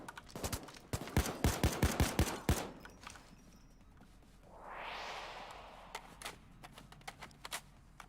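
Gunfire in the Payday 2 video game, a quick burst of about ten sharp shots in the first few seconds, then a soft whooshing swell and scattered clicks and taps, fairly faint overall.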